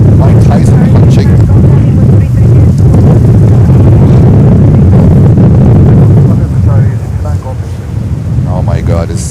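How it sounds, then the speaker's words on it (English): Strong wind gusts of about 40 knots at JFK airport batter the microphone with a heavy, continuous low roar, while a voice speaks over the noise. "wind gusts at least here 40 knots, at least"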